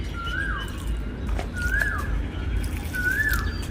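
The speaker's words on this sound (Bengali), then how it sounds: "কি সুন্দর কোকিল ডাকছে" An Asian koel calls three times from a garden with eggplant plants, each call a clear rising whistled note spaced about 1.5 seconds apart over a steady low outdoor rumble.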